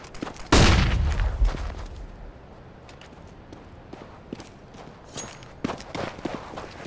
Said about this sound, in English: I'm throwing a grenade. I'm throwing a flashbang.